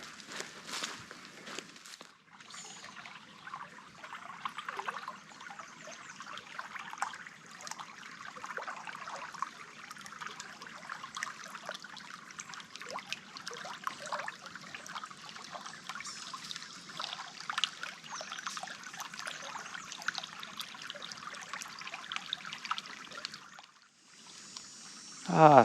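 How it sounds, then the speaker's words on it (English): Water trickles and flows gently through the Green Swamp in Florida, a soft, continuous wash of close burbling with faint rustles and footsteps, steady and low in level throughout. "so nice hearing the sounds of this flowing water through the swamps"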